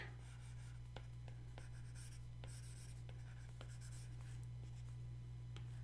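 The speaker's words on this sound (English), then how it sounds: "I'll just soft erase this and clean it up one more time." A soft eraser rubbing over a pencil drawing on paper: faint, short, repeated scrubbing strokes over a steady low background hum.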